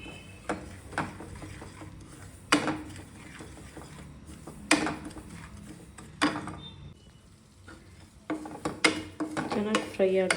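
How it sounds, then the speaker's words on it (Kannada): Semolina (rava) roasts in a pan for pineapple kesaribath while being stirred, heard as repeated scraping and clanking of a spoon against the pan at irregular intervals, with faint background sounds. "ಈ ಕಡೆ ರವೆ ಹುರಿತಾ ಇದ್ದೀನಿ"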